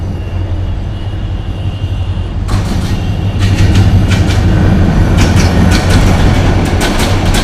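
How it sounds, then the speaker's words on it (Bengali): A train rolls past nearby with a steady low rumble and repeated clickety-clack of wheels over rail joints, growing louder after the first couple of seconds. "এই যে ট্রেন চলে আসছে"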